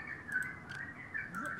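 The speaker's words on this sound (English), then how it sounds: "Shut up, birds." Small birds chirp in the background of a Total War: Attila online match, with repeated short high tweets over steady low room noise and soft background murmur.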